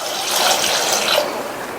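Water pours from a tap into a pressure cooker holding half a kilo of washed baby potatoes, a loud, close, steady gushing stream lasting under two seconds.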